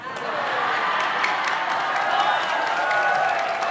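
Audience applause and cheering fill a hall during a sermon about taking vote-buying bribes at an election. The sound is a steady, dense wash of clapping with a few whoops, loud and continuous throughout.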